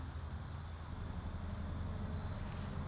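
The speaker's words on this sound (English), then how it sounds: "You can hear all of the crickets." Crickets chirp in a steady, high, shimmering drone, faint and constant, with no other sounds breaking through.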